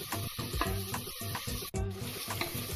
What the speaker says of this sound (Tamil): ஆனியனை போட்டுட்டு நல்லா வதக்கிக்குவோம்